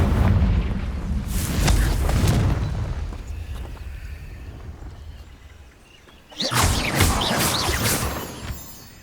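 Confringo blast spells exploding in the video game Hogwarts Legacy: a rumbling burst of booms, a quieter stretch, then a second sharp, loud explosive blast with crackling debris.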